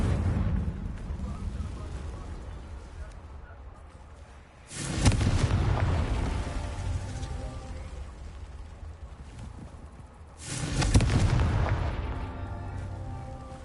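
Two deep booming blasts from the Confringo fire spell in Hogwarts Legacy, each a sudden heavy explosion that rumbles and fades over several seconds, separated by a quieter stretch.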